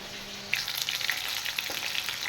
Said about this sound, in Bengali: মাছ ফ্রাই হয়ে গেছে